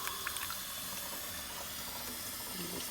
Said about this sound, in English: I just get a little bowl with water.